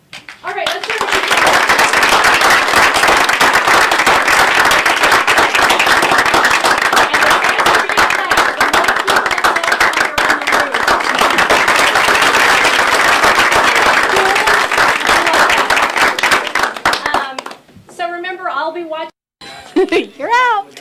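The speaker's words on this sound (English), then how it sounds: "So, are you ready for some applause, John?" Loud, sustained applause from a studio audience fills about seventeen seconds of dense clapping, then breaks off into brief talk and scattered sounds near the end.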